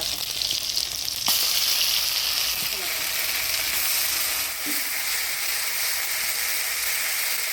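Dried red chillies, bay leaves, whole cumin and chopped tomato go into hot oil for a tempering, and a loud hiss flares up and then carries on steadily with a few light clicks of the utensil.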